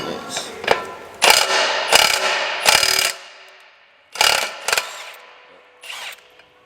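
A Titan ratchet wrench removes bolts on a John Deere planter in a shop, with several bursts of rapid mechanical clicking and grinding separated by short pauses, loud and close.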